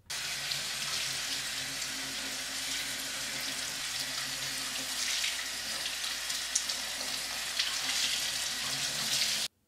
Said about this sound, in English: Now we just have to rinse our yakisoba noodles under hot water to loosen them up a bit.